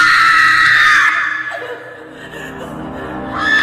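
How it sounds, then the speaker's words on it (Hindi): A woman screams loudly and shrilly in a horror story sound effect, the sustained cry breaking off into a lower, fading tail before another rising wail begins at the end. "वो जोर जोर से चीखने लगी।"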